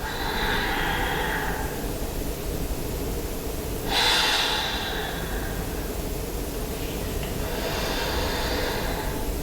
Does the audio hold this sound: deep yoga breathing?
yes